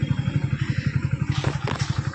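A motorcycle engine idles nearby with a steady, rapid thumping putter, and a brief rattling clatter near the end.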